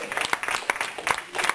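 A church congregation claps in praise during a Sunday sermon, a brief burst of scattered, irregular hand claps heard at moderate distance.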